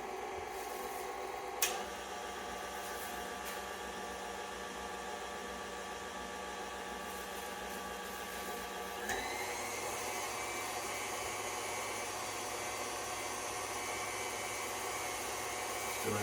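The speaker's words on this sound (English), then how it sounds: "we'll go ahead and let the KitchenAid whisk it for us" A KitchenAid stand mixer whisking a matcha green tea ice cream base runs as a steady motor whir throughout, shifting pitch twice with small knocks, with no talk over it.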